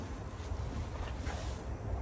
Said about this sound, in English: I think with the weather, it's gotten a little windy.